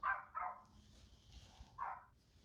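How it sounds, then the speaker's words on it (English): Neighbor's dogs barking at a distance, three quick muffled barks, two close together and a third after a pause, faint against a quiet room. "sorry for my neighbor's dogs"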